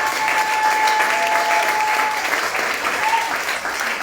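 A church congregation applauds and cheers for the Lord in a loud, dense, continuous wave of clapping that fills the hall and holds steady throughout.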